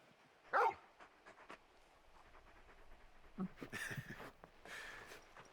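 A large dog in the Final Fantasy XVI video game makes a brief yelping whimper, followed by faint panting, sniffing and soft movement sounds, quiet and close.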